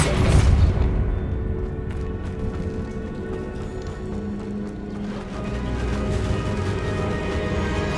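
Depulso force spell blast in Hogwarts Legacy, a heavy booming impact at the start that fades into a dense rumbling game soundscape with music underneath.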